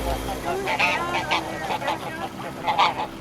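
Ducks on a farm quack and honk in a run of loud, close calls, several overlapping bursts over a few seconds against a low background hum.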